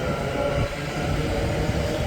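A London Northwestern Railway train passes through Berkhamsted station, a loud, steady rumble and rail roar filling the whole moment up close, with no voices.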